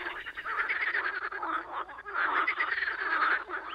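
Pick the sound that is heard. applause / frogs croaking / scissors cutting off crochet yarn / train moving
frogs croaking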